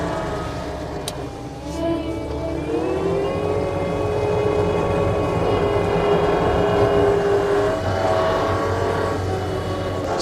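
A 2019 New Holland L220 skid steer running in reverse, its diesel engine droning loud and steady at close range, with rising and falling hydraulic whine over the rumble.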